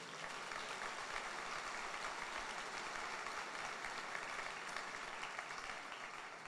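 A church congregation applauding together during a service, a dense, steady wash of clapping that holds evenly from start to finish, heard at a moderate distance with no voices standing out.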